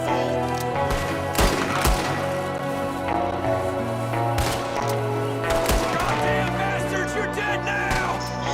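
Gunfire in the video game Red Dead Redemption 2, a steady dense bed of game sound with scattered sharp shot cracks throughout, while someone talks over it.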